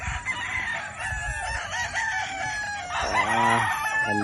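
Gamefowl roosters crow on a farm in a chorus of overlapping cock-a-doodle-doos and clucks, several birds calling at once, with one loud, close crow rising near the end.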